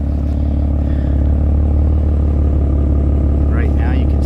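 A new BMW M3 with M Performance exhaust idles with a low, steady, throbbing hum up close at the exhaust tips, with a brief higher sound near the end.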